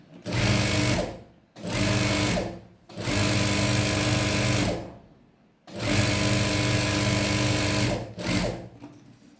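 A sewing machine stitches in four long bursts separated by short pauses, its motor whirring and needle chattering loudly up close, with no talking over it.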